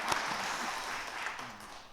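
Church congregation at a Sunday afternoon service claps for the choir, a soft, steady patter of applause heard from some distance in a large room, with no talking.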